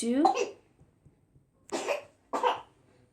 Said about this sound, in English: we are all coughing here